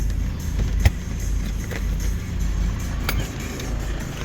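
A 2010 Toyota Commuter van with a 2.5-litre diesel engine idles steadily, a low even rumble heard close up with a couple of sharp clicks mixed in.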